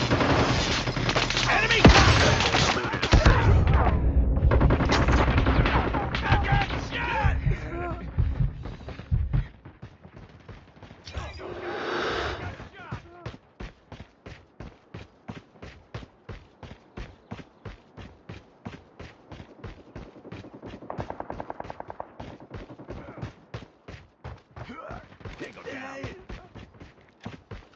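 Rapid gunfire from a Call of Duty heist mission in a shoot house, dense bursts early then a long run of evenly spaced single shots, with a voice calling out over the shooting.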